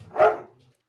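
A single short dog bark, close and fairly loud, fading out quickly with no voices over it.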